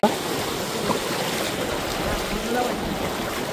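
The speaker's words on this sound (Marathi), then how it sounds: "इथे पाणी वाहते." A steady rushing wash of stream water flowing during heavy rain fills the clip, broad and continuous, with no clear talk.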